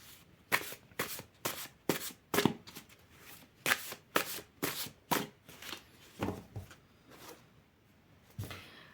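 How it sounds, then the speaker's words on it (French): Large Egyptian tarot cards being shuffled and handled, a string of crisp riffling swishes and slaps repeating steadily at close range in a quiet room, with no talk. "Je suis obligée de retirer mes cartes parce que comme elles sont grandes"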